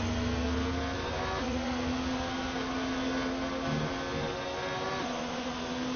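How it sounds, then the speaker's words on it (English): A motorcycle engine outside drones on continuously, moderately loud, with a slight shift in pitch partway through and no voices. "There is a motorcycle outside. You probably might hear that engine roaring right now"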